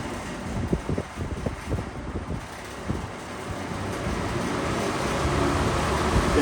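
A loose vintage box fan runs noisily with a steady, broad whooshing roar, with a few faint knocks and rattles early on, and the airflow grows slightly louder toward the end.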